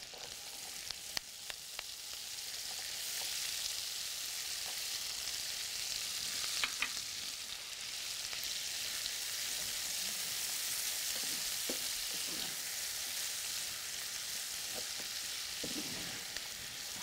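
Minced carrots fry in oil with bacon in a pan, a constant close sizzle with occasional sharp pops and light stirring clicks, with no one speaking.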